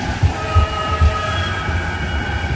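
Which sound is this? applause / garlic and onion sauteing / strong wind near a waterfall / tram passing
tram passing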